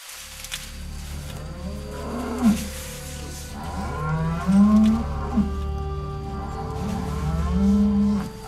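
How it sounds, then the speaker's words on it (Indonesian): Cows in an Indonesian village give several long, loud moos close by, spaced apart over a low steady background. "Ada sapi sebelahnya guys."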